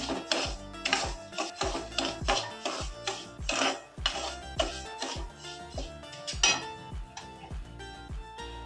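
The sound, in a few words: semolina being roasted and stirred in a pan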